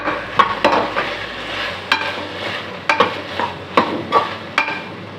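Green peas being sautéed in a pan for navratan pulao: a steady sizzle with repeated scraping stirs of a utensil against the pan, close and alone.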